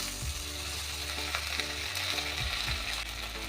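Diced tomatoes go into eggplant already frying in a pan, giving a steady close sizzle with a few scraping stirs and light clinks, no voices.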